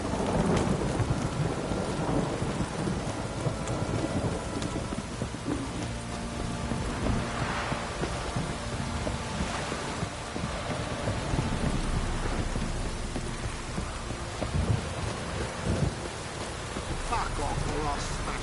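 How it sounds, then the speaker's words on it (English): Heavy downpour in The Witcher 3: Wild Hunt, a steady dense hiss of rain with rolling thunder swelling several times across the stretch, constant and loud throughout. "This downpour's a bastard"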